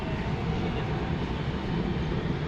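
Continuous loud rumbling roar of a Mumbai metro train passing close by, steady throughout with no break.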